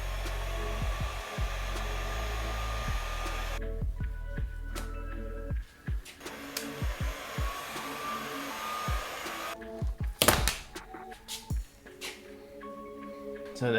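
A heat gun warms the adhesive on a car's weather shield with a steady blowing roar, then cuts out to scattered clicks and handling noises before starting again briefly.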